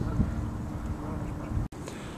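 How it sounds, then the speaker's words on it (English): Ducks at Burnaby Lake giving repeated quacks, fairly close and mixed with outdoor noise; a person speaks faintly in the background and a brief dropout breaks the sound near the end. "The ducks are coming!"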